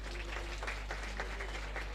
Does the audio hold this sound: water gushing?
no